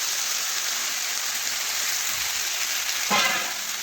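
Moringa drumsticks sautéing in a pan with spices while papaya is cooked, a steady close sizzle with a brief louder stirring burst near the end.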